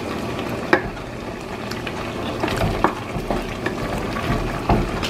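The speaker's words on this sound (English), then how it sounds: "So we'll let this cook down. You can see that the meat is cooking pretty good." Ground turkey meat cooking down in a pan, with a soft sizzle under repeated clinks and scrapes of a utensil stirring against the pan, moderately loud and close.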